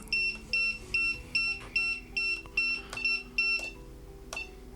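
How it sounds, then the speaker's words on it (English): A high electronic beep from a DJI RC Pro 2 drone controller repeats in a steady rhythm, about ten short tones, clear and fairly close. "I don't know why that's beeping"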